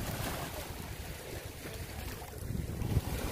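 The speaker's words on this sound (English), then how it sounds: "It's a bit windy." Wind blowing across a beach in Malta beside boathouses and open water, a steady, close buffeting rumble that swells slightly toward the end, with no voices.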